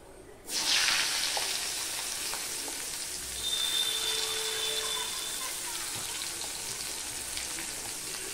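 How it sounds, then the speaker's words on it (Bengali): Onions dropped into hot oil with nigella seeds set off a sudden sizzle, then a steady, close frying hiss continues with faint stirring sounds. "এবার দিয়ে দিচ্ছি পেঁয়াজ"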